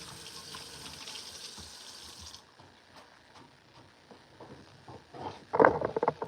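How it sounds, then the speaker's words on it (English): Water rushes steadily from a sink tap for a couple of seconds, then the flow stops. Soft clatter and clinks follow, with a louder clattering burst near the end. "turn on cold water"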